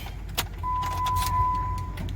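A Jeep Compass is started with a newly coded transponder key: a brief click and jingle, then a steady low engine hum with a faint electronic tone, heard close and fairly quiet.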